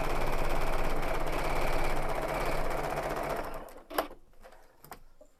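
A sewing machine stitches quilt blocks with a 1/4 inch seam, a steady close whirring run lasting several seconds that stops, followed by a couple of soft handling clicks and quiet.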